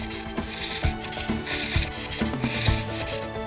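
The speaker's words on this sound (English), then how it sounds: "The shale's now ready for turning on the ingenious foot-driven wood lathe, to be shaped by flint tools" Shale being turned on a foot-driven wood lathe and shaped with hand-knapped flint tools, giving a steady close scraping rasp with rhythmic pulses as the treadle drives the work.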